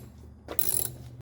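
A ratchet clicks briefly as it turns a 10 millimeter nut during removal of a RAV bumper for hitch installation, a short, close burst of ratcheting with no voices.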